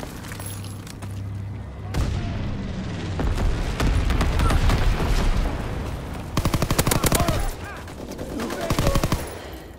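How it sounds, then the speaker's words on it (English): Heavy explosions and crackling bursts from incendiary bombs dropped by an enemy bomber in a combat video game, a dense rumbling barrage that swells and pulses with sharp rapid blasts toward the end. "Incendiary bombs incoming."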